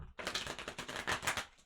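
Tarot cards being shuffled at close range, a dense, rapid run of crisp papery flutters and clicks lasting over a second after a short silent start.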